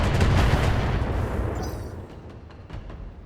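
Heavy mech weapons firing in BattleTech: a loud, booming artillery-like blast that rolls off into a fading rumble, with a few faint crackles and pops trailing behind.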